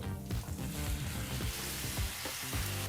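Chopped radish fries with onions in a pan, giving a quiet, steady sizzle with repeated scraping stirs and soft knocks throughout.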